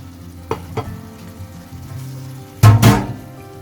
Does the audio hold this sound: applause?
no